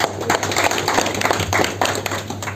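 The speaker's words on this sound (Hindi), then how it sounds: "एक बार जोरदार ताली" An audience at a large RCM business meeting in Agra claps loudly, a dense burst of many hands lasting a couple of seconds.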